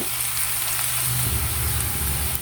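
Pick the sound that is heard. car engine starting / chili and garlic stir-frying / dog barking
chili and garlic stir-frying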